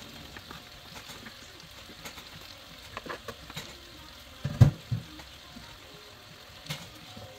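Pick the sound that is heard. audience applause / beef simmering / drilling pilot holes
beef simmering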